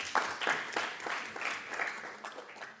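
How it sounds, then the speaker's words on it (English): Audience at an international education conference session applauding, a short burst of clapping at moderate distance, uneven and thinning as it goes. "Another round of applause."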